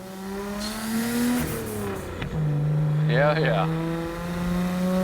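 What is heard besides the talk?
Nissan Skyline GT-R R34 engine with Tomei exhaust while driving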